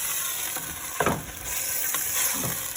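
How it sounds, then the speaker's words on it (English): Meat browning fast in a hot pan for chow mein, a steady sizzle and fry with a few soft stirring scrapes, close and moderately loud. "We're browning up our meat."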